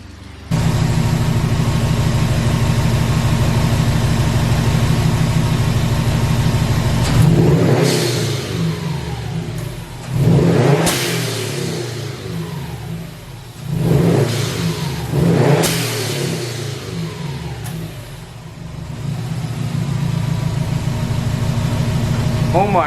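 Subaru STI engine idling, then revved hard several times with its GFB blow-off valve set fully open, each surge rising loud and close before falling back to a steady idle.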